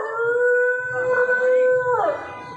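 A voice imitates a dog's long, wavering howl, held steadily before sliding downward at the end, loud and close.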